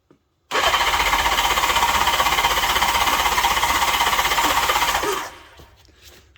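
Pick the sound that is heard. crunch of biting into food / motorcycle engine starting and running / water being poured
motorcycle engine starting and running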